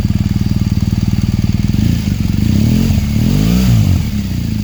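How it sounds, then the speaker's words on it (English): A 2015 BMW R1200GS Adventure with its Akrapovic slip-on outlet removed, revving from a steady throbbing idle into a couple of deeper, louder swells of engine throttle, close and alone. "just by taking this out, completely changed the sound of the exhaust."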